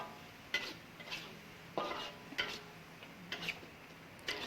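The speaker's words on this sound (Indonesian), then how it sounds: "Kita tumiskan kembali." Squid and tofu sauté in spicy sambal balado with salt and sugar, stirred in a pan; a faint, soft frying hiss carries a rhythmic series of quiet scrapes and taps from the spatula.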